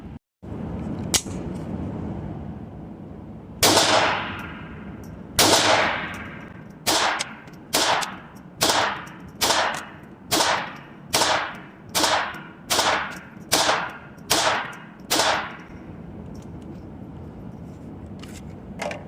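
A Taurus TX22 Compact pistol fires CCI 36-grain hollow point rounds: about thirteen sharp, loud cracks, a few spaced apart at first and then a fairly steady rhythmic series, with no talk.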